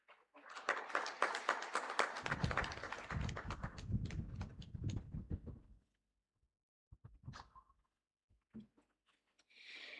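At a university orientation programme for a women's technical university, an audience claps loudly for about six seconds, then the applause stops abruptly, leaving near silence broken by a few isolated taps.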